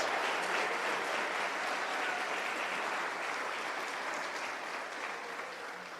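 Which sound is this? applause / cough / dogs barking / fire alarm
applause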